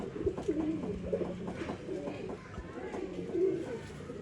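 A breeding male pigeon of an old-line breed, offered for sale in Bangalore, coos softly in a steady series of low rolling calls over faint background noise.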